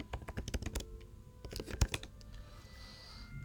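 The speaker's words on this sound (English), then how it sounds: "If I can type" Keys clatter on a computer keyboard in irregular bursts of close, crisp clicks, with a pause midway and one louder stroke before the typing trails off into quiet room tone.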